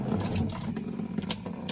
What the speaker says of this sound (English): So I have my faucet running